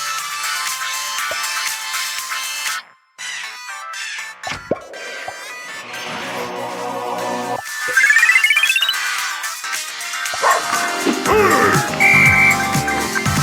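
An incoming phone call's ringtone sounds over busy mobile game audio from Subway Surfers, a bright repeating electronic melody layered with game effects and jingles.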